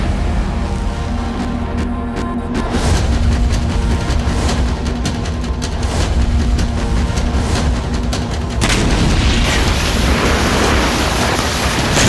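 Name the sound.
artillery cannons firing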